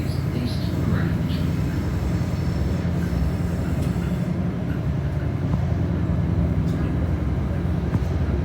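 An Adelaide Metro 3100 series diesel railcar pulls away from Grange station on a single-track line, a steady close rumble of engine and wheels continuing throughout.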